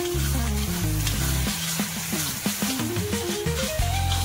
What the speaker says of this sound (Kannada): ಟೊಮ್ಯಾಟೊ ಎಲ್ಲ ಚೆನ್ನಾಗಿ ಫ್ರೈ ಆಗಬೇಕು.